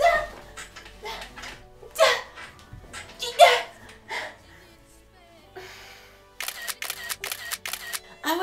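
Rapid clicks of a camera shutter firing for a selfie, first a few separate clicks mixed with giggles and voices, then a quick burst of repeated clicks near the end.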